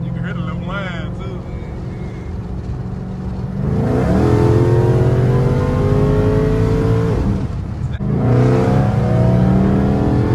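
A supercharged 1500hp car engine revs and rises in pitch, loud and close, with a thin supercharger whine layered over the roar.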